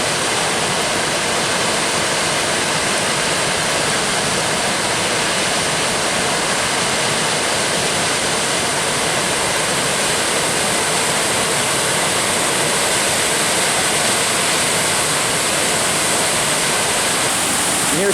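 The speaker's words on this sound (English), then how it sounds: "about to check out a waterfall." A large waterfall in a Minnesota state park along the Superior Hiking Trail roars in a steady, dense wash of falling water, loud and close, unbroken for the whole stretch with no voices.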